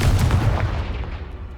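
A Confringo fire-blast spell explodes in Hogwarts Legacy, a loud booming burst at the start whose low rumble slowly fades away, with no voices over it.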